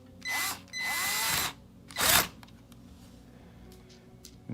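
Two short power drill bursts drive screws while repairing the charge port on a Swagtron SwagCycle EB-5 14-inch electric bike, followed by a louder spin and then quiet clicks and handling noises, close by.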